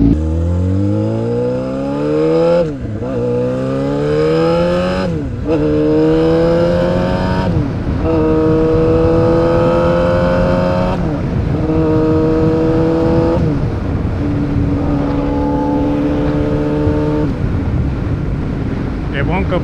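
A Yamaha R6 motorcycle engine revs hard on a test ride, climbing in pitch through several gears with brief dips at each shift, loud and close with wind noise throughout.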